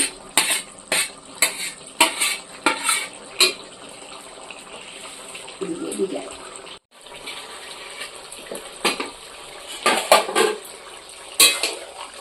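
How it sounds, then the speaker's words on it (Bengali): Fish pieces go into a cooking pot of spiced khichuri with potatoes, marked by a run of sharp metallic knocks and scrapes from a utensil against the pot, pausing midway then resuming, close and fairly loud. "এবার মাছগুলো আমি দিয়ে দিচ্ছি"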